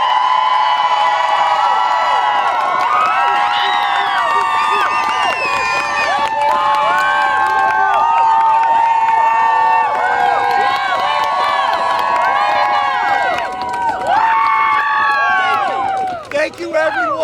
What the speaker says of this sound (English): give them all a great round of applause